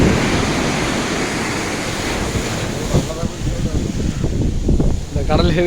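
Rough sea surf churns and crashes steadily near a fishing boat, with wind buffeting the microphone and people talking in the second half.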